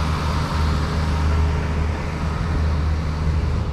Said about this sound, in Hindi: गाड़ी गाड़ी आवाज़ बहुत कर रहा है,